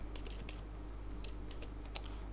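Line of a GW-BASIC program typed on a computer keyboard, a quick scatter of light key clicks at irregular intervals over a low, steady hum, faint and close with no talking.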